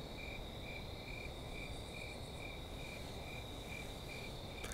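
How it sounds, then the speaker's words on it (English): A male cricket chirps steadily in a garden on a calm full-moon night, its pulsed trills repeating at an even rhythm over a soft, constant background hiss. "Listen, there's a new male cricket in the garden."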